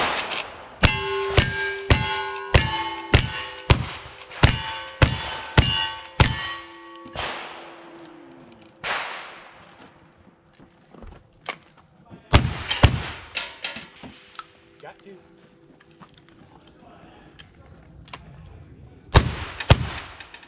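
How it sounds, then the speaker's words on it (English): Rapid string of Ruger New Model Single-Six .32 H&R bird's-head revolver shots ringing off steel squares and circles on a course, each crack followed by a bright metallic clang, then a pause and a few more shots and pings later. "Put at least three shots on each of the squares."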